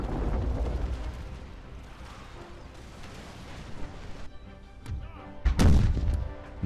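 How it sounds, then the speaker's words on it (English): Artillery fires across a battlefield in Empire 2 Total War, a rumbling muffled barrage under background battle noise, ending in a couple of louder heavy booms near the close. "I've just got my artillery trying to target him"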